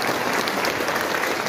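Church congregation clapping hands together, a dense, steady wash of applause filling the room with no pauses.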